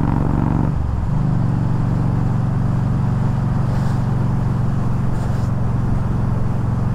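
A Yamaha V Star 1300 motorcycle engine pulls under load while riding, a loud, steady low rumble close to the listener, with a brief shift in tone near the start before it settles into an even drone.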